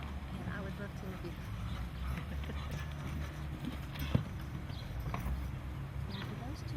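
Carriage horses' hooves clip-clop steadily at a walking pace on a hard surface, heard at a moderate distance over a low, constant background rumble.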